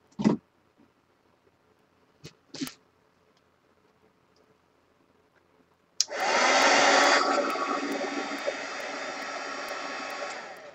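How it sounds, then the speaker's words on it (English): A heat gun for art journaling blows a steady, loud hissing rush of air that switches on partway through, after a few quiet taps and clicks, and keeps running to the end. "All right, first things first, heat gun."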